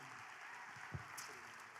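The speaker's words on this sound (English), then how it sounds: "please give a round of applause and a welcome to the freshman class of 2027 to Miss Tigno" At a school awards and promotion ceremony, an audience claps to welcome a speaker, a faint, distant wash of applause that holds steady and then trails off.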